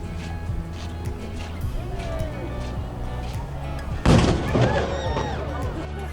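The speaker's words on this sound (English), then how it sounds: "They're going to try to sink us with a live cannon firing." A live cannon fires with a loud boom from a river cruise boat, followed by rumbling echo, after several seconds of steady engine and crowd noise with people talking nearby.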